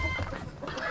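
Bantam chickens cluck close by, including a stressed hen, in a quick burst of short overlapping clucks lasting about a second.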